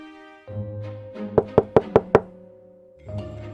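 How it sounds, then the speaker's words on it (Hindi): Five quick, sharp knocks on a door in a steady rhythm, loud and close, over a soft musical background. "तभी दरवाजे पर दस्तक होती है।"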